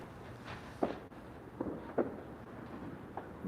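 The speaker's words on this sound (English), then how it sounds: "Fireworks are still going, as you can hear." Fireworks popping in the distance beside a river harbour at Lowestoft, with several faint, irregularly spaced bangs over steady outdoor background noise.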